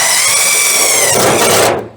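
A power drill drives a drill screw into a truck, its motor whining steadily and loud at close range for almost two seconds, the pitch dropping as the screw bites, then cutting off.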